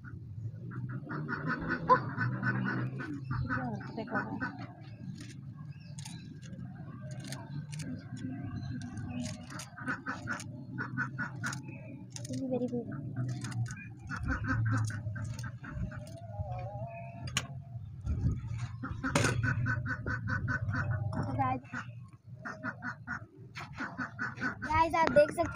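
Ducks and hens at a small backyard mini zoo call intermittently, with quacks and clucks scattered throughout, under near-constant talking from a woman nearby on a hot day.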